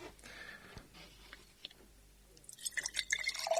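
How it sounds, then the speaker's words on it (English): Hot water trickles into a jar, faint and brief: quiet drips at first, then a short, brighter pouring rush in the final second. "Hot water into the jar itself."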